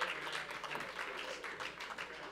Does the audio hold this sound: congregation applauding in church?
yes